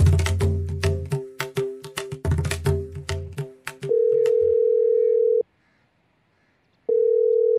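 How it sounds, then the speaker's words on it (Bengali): Repeated plucked melodic tones, then a steady electronic telephone tone that stops, pauses, and resumes, unanswered; no voices. "সেই কখন থেকে ফোন করছি ওকে, ফোনটা ধরারই নাম নেই।"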